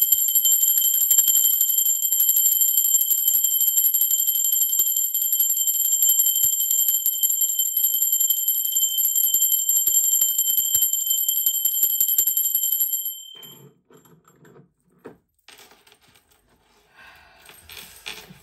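A high-pitched bell rings steadily for about thirteen seconds as a sustained, shimmering tone, then cuts off, leaving quiet scattered clicks and rustles.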